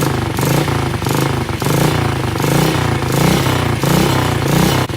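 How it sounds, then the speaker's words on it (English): A dirt bike engine fitted to run quietly, a loud steady close-up chug with a regular pulsing beat and a mechanical clatter throughout. "Oh, she's super quiet. You hear more motor noise."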